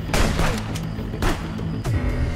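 Gunfire from the police video game Contraband Police, set on a roadside checkpoint: several loud, sharp bursts of shots, clustered near the start, middle and end, close and dominant with rumbling game noise beneath.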